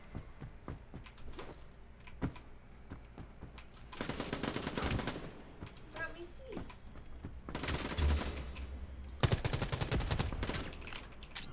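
SMG fire in Quantum League rattles in rapid bursts, short staccato volleys separated by pauses, with a player talking over parts of the action.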